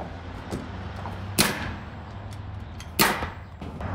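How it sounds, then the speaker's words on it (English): A nail gun fires nails into house siding, two sharp loud bangs about a second and a half apart with fainter taps between, close up and with no talking. "The nail gun went too far in"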